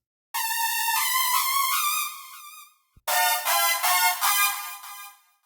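Synth preset from the bridge section of a 90s-style track built in FL Studio: a bright, buzzy chord held for over two seconds, then a brief gap and a series of rhythmic stabbed chords.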